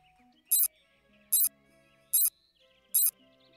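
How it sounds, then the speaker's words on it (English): Sonar wall-detection beep from a video game, four short, bright, evenly spaced bursts about a second apart over faint quiet background tones. "If the sonar detects a wall, it makes a sound like this."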